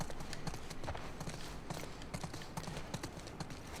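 Horse hooves clip-clop in a steady walking rhythm in The Last of Us Part 2, quiet, close and crisp, with no speech over them.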